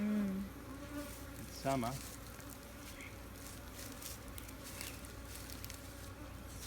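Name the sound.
honey bees buzzing around a hive being split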